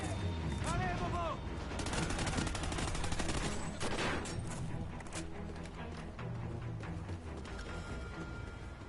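Sustained suppressive gunfire in the Call of Duty Ghosts campaign, dense rapid bursts of automatic fire over a constant battle din, with brief shouted voices mixed in.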